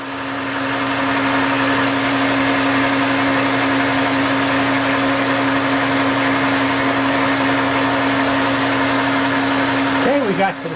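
A milling machine on power feed takes a shallow cut across an aluminum hammer workpiece, giving a loud, steady whine with a constant hum that holds level for about ten seconds before briefly winding down.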